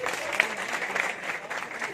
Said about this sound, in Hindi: एक बार ताली हो जाए अपने सबके लिए, ताली हो जाए